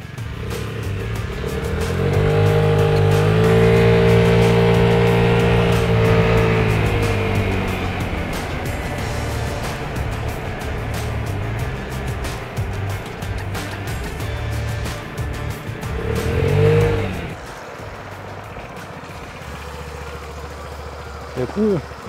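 A Vespa GTS scooter with stock exhaust idles and revs up loudly, then settles into a steady putter with another brief rev; a voice talks over it.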